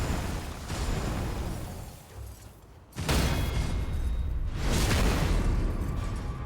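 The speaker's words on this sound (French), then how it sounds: "Ces petits coups de" Gunshots fired in the Elden Ring video game at Stormveil Castle, heard as two loud, broadband bursts about two seconds apart over a continuous, dense game soundscape.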